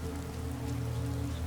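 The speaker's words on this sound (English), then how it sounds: "standing in the rain" Steady rain falls on a surface, a continuous dense patter with no breaks, close and moderately loud, with a low hum beneath and no voices.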